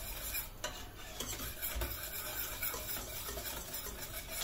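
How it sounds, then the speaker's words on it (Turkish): Cream for a cat's-tongue cake being stirred without pause as it boils in a pot on the stove, a soft steady bubbling and scraping of the spoon against the pot, close and fairly quiet. "Bir hale gelene kadar sürekli karıştırarak kaynatacağız arkadaşlar"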